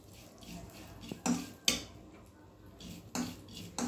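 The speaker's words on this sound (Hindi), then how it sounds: "और ये हम खसखस डाल देंगे इसे हम अच्छे से पहले भून लेंगे" A spoon stirs poppy seeds roasting in a pan, with light metallic scrapes and clinks repeating at irregular intervals over a soft background hiss.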